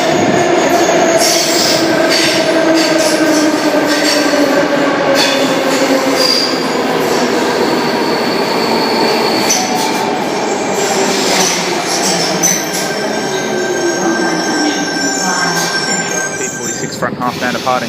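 A commuter train pulls away from a platform at a Sydney station bound for Bondi Junction, its wheels squealing loudly and steadily over rail clatter, with a station announcement voice running underneath.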